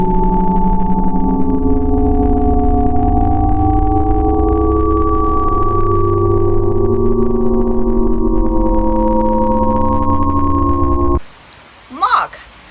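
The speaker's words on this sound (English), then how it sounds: "It's sound healing." Sustained, overlapping pure tones from a sound healing instrument hum steadily and loudly, shifting slowly in pitch before stopping abruptly, followed by a brief vocal sound.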